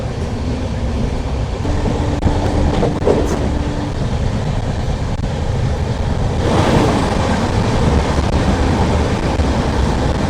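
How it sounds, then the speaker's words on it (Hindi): The Sarbat Da Bhala Express, train 22479, runs at speed with a loud steady rushing rumble and rattling wheels on the rail, heard from on board. "अच्छी गति के साथ आगे बढ़ती हुई हमारी ट्रेन 22/479 सरबत दा भला एक्सप्रेस।"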